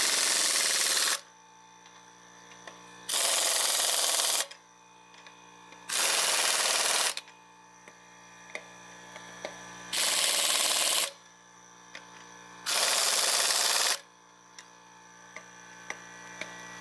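Impact wrench bursts tightening car wheel lug nuts in a crisscross pattern after a tire change, five loud buzzing runs of about one to one and a half seconds each, separated by short pauses with faint clicks.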